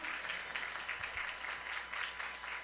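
A church congregation claps together in praise of the risen Jesus, a faint, distant, steady rhythmic applause filling the room.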